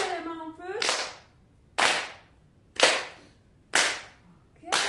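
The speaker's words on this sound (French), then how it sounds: "On tape bien fort, ça doit bouger les mains un peu." Hard, forceful hand claps in a Qi Gong self-massage session, five loud sharp slaps spaced about a second apart, close by, with a brief vocal sound at the start before the clapping.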